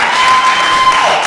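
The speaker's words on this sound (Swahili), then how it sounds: "Makofi tafadhali, shangwe na nderemo tafadhali." Brief, steady applause from an audience at a Sacco annual meeting, greeting newly elected directors as a dense, continuous wash of clapping.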